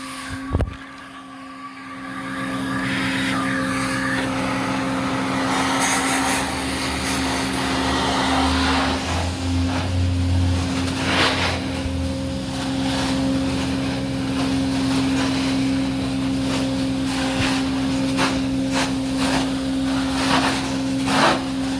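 A Glide wand pulls carpet-cleaning solution back up in a commercial vacuum extraction with Formula 99, producing a steady, loud suction whine and hum that runs unbroken after a brief start-up, with no voices.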